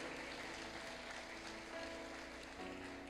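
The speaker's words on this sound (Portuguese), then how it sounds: "Quem pode aplaudir a esse Deus, aplauda Ele" A church congregation applauds together, a steady, dense wash of many hands clapping that stays even and somewhat distant for the whole stretch.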